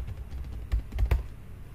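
Computer keyboard typing into a chatbot: soft, irregular key clicks with a few louder taps, close and alone without talk.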